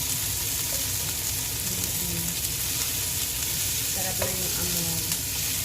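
Fish heads browning in a hot pan for sinigang, a steady close sizzle and frying crackle running throughout, with occasional stirring clatter and a brief line of quiet speech.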